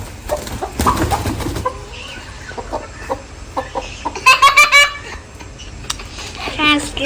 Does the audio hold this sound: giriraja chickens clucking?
yes